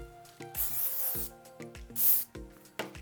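Short hissing spray bursts of Moroccanoil Perfect Defense heat protectant misted onto hair while styling a bob, several quick pumps close by over faint background music.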